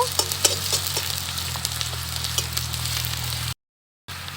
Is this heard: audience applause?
no